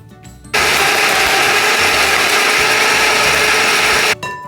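A food processor whirs loud and close as it blends seasoning cubes, starting abruptly, running steadily for about three and a half seconds, then cutting off.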